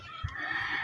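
A chicken clucks once, close by, over a steady background hum and faint outdoor noise.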